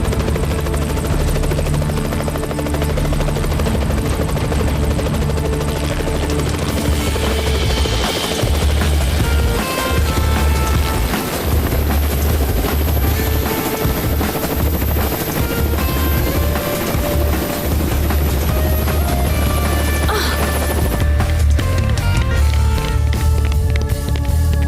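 A helicopter drones steadily with a continuous rotor thump and engine whine, loud and sustained for about twenty-five seconds, rising slightly near the end with no talk over it.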